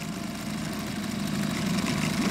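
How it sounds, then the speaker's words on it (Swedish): A fishing boat's outboard motor idles steadily and close by, a low continuous hum with a faint rise toward the end, while out on the water zander fishing. "Akta motorn nu."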